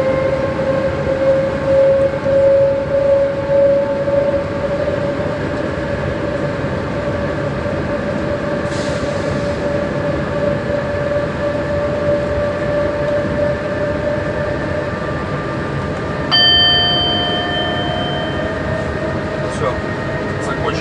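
A train rolls steadily along the rails on the Liège–Antwerp line during a braking test, with a constant rumble and a droning whine, with a brief sharper squeal partway through.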